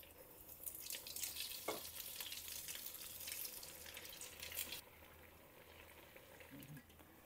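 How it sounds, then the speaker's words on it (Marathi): Veg cutlets deep frying in oil, a busy crackling sizzle that runs steadily for several seconds, then drops to a softer, quieter bubbling toward the end, with no talk. "आता आपण हे कटलेट तळून घेऊ."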